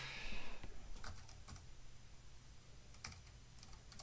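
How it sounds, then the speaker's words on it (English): Quiet, irregular clicking of keys on a computer keyboard, in short bursts with pauses, over a soft background hiss; no one speaks. "He's breathing and typing in a computer."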